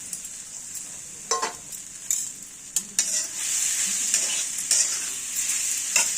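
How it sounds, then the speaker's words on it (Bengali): A spoon scrapes and stirs grated coconut and sugar in a hot wok for a palm pitha filling, with a soft sizzle underneath and repeated sharp scraping strokes, close and fairly loud with no speech. "এবার আমরা কড়াতে দিয়ে দেবো কড়াতে দিয়ে ক্ষীরটা তৈরি করে নেবো আমরা"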